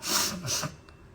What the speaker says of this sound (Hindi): मैंने स्नीज किया.